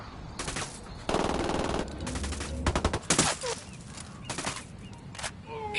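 Gunfire in the tactical shooter Ghost Recon: rapid machine-gun bursts and scattered single shots crack in close succession, some loud and near, others distant, with brief pauses between volleys.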